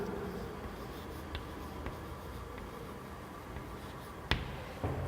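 A lecturer writes on a classroom board with faint scratchy strokes, broken by a few sharp taps and one louder knock near the end, with no voice.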